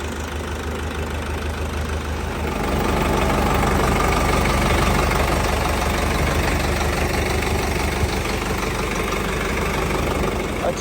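A tractor's original Vajio diesel engine runs steadily, a continuous loud idling rumble with a faint knocking texture that grows a little heavier partway through, with no voices over it.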